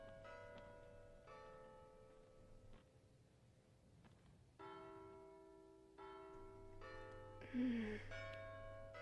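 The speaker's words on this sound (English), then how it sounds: "Margot, can you hear the church bells?" Church bells ring at night with sustained, layered tones that swell and overlap, fairly quiet and distant-sounding, with a low hum underneath and no talking.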